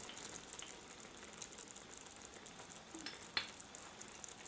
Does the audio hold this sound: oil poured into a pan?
yes